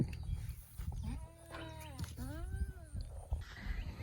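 A dairy goat in a goat barn lets out two drawn-out wavering bleats close by, the second one rising and then falling, with faint barn shuffling and background noise around them.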